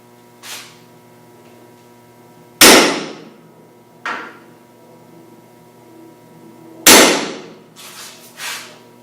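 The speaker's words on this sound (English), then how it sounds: "center punch and a hammer and put a little starter punch so the drill bit locates in the correct spot" A hammer strikes a center punch on metal while marking a drill spot during intercooler mounting on a 1965 Mustang restoration, giving several sharp, ringing taps at irregular intervals, with two hard blows standing out clearly over a faint background hum.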